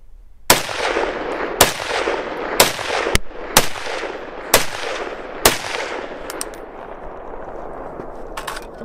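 Ruger SFAR rifle fired unsuppressed on gas setting 10: six loud, sharp gunshots spaced about a second apart, each with a ringing metallic tail, followed by quieter clinks and rattles of the action.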